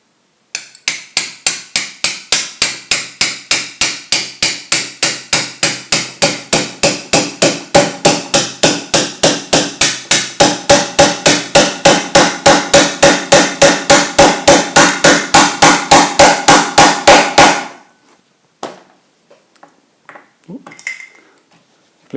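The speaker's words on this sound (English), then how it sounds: "there's a roll pin, and that just needs hammering through" Rapid, evenly spaced hammer blows drive a roll pin into a Pierburg 2E3 carburettor from a VW T25/T3, about seventy sharp metallic taps over some seventeen seconds, loud and close, ending in near silence.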